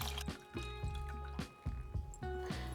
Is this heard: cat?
no